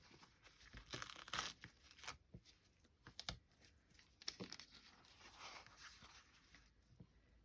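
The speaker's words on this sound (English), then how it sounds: "you're just going to tear that kitchen towel roughly" Kitchen towel is torn roughly by hand in several quiet, crinkly rips with short pauses between them, close and soft.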